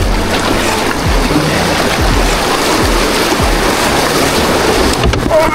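Canoe or kayak paddled along a river during the Türi-Tori 2025 78 km race: steady rushing water with regular soft paddle strokes roughly once a second, loud and close.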